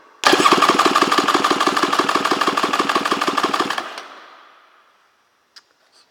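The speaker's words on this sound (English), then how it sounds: "we're going to do an engine compression test" A 2003 Polaris MSX 140 engine is cranked for a compression test, giving a loud, rapid, even chugging pulse for about three and a half seconds before it cuts off and fades, followed by a faint click.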